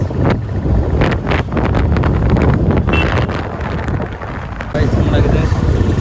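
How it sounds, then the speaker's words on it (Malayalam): Cool wind sweeps along a road leading to Sarovaram in Kozhikode, producing loud gusting microphone rumble that rises and dips in surges, with a person talking through it. "പ്രത്യേക ഒരു തണുത്ത കാറ്റ് കിട്ടുന്നുണ്ട്"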